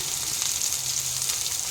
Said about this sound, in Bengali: এর মধ্যে আমি দিয়ে দেবো এবার পেঁয়াজ কুচি